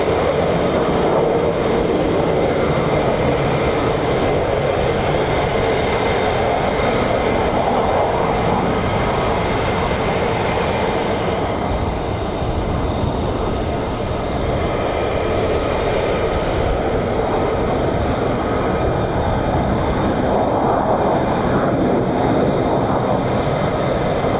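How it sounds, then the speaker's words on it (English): US Air Force F-15 Strike Eagle fighter jets roar steadily and loudly for about twenty-four seconds, a dense, unbroken engine rumble at an air base with no talk. "F-15 Strike Eagles, here they are"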